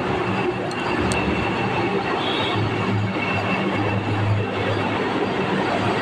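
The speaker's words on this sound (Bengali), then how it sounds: "বন্দে ভারত এক্সপ্রেস ঢুকছে।" The Vande Bharat Express rolls into a station with a steady, loud rumble of wheels and carriages lasting several seconds, and no one speaks.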